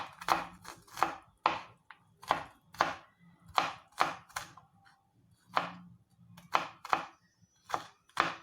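Knife chopping food on a board in a home kitchen, a series of crisp, close taps in uneven bursts with short pauses, alone without talk.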